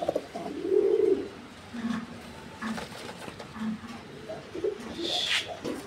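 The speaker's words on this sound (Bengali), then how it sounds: "দেখেন এই যে দেখেন কবুতরগুলো" Pigeons kept in a seller's coop give soft, low cooing calls in short repeated phrases at close range, over a faint background hiss, with a brief higher chirp near the end.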